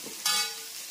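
Onions and chicken masala frying in oil, a soft sizzle that swells suddenly after a brief quiet start and then settles into a steady faint crackle, with no one talking.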